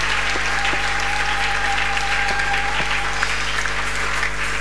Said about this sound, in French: Celui qui dit Amen peut acclamer le Seigneur.